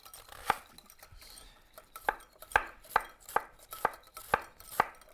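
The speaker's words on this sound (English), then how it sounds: "I'm just going to whisk this together." Garlic, salt and oil vinaigrette whisked in a bowl: evenly spaced, bright clinks of the whisk against the bowl repeat about twice a second. The sound is close and steady, with no talking.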